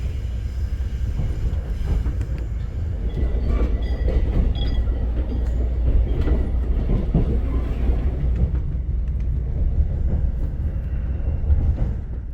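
A train rumbles steadily along the rails of a remote rural line in Korea, arriving toward Najeon Station, a continuous low roar with faint rattling and clatter, loud and close throughout.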